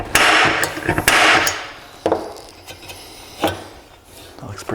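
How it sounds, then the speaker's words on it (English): Hammer striking a center punch on spot welds of a car's front-end body panel, a series of sharp metallic taps spaced irregularly, loud and close with quieter hits between. "first thing we need to do is we need to center punch the spot welds"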